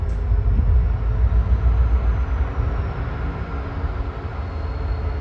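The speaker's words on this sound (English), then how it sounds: "Those two locomotives over in the distance are in the process of switching cars," Locomotives switching rail cars in the Union Pacific classification yard at Roseville, California, a steady low rumble of diesel engines and rolling cars heard from a distance, with no voices.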